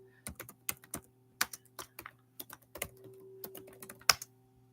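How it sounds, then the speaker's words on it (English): Irregular clicks of typing on a computer keyboard, quiet and close, coming in short uneven bursts over a faint steady background hum. "I'll type it into the chat."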